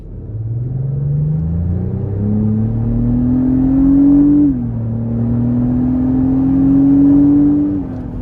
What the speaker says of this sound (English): Very sporty sound there coming from the engine, the exhaust